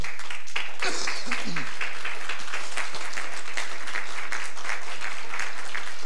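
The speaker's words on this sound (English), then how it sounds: "Stand to your feet and give the Lord a hand clap of praise" Congregation at an Easter church service clapping hands in praise, a steady dense patter of many claps throughout, with a few scattered voices calling out underneath.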